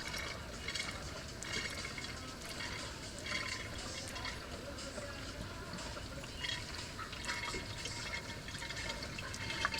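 DEF fluid pouring from a bottle into the tank of a 2012 BMW E70 35d, a steady trickling, gurgling stream of liquid heard close up and continuous, with no talking.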